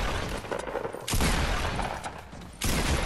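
Fortnite Battle Royale gunfire rattles in dense, loud bursts, a heavy fusillade with a couple of sharp surges in intensity.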